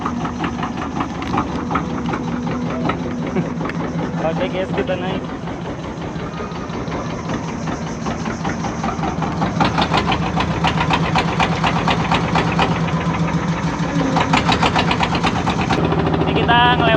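A boat engine runs steadily with a rattling, buzzing drone as people board at Biduk-Biduk in East Kalimantan, with voices talking over it throughout.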